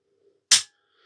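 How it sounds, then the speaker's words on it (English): An AGT Vulcan 3 air rifle fires once when the trigger is pulled, a single sharp, close crack that decays quickly into near silence. "So the rifle still fires at the moment"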